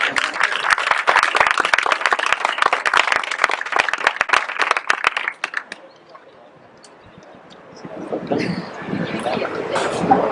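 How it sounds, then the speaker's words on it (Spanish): Applause from the audience at a public education debate in Dos Hermanas, with dense, loud clapping for about five seconds before it fades out. Talk and crowd murmur take over afterward. "Así que un aplauso a todos los compañeros nuevamente, de verdad."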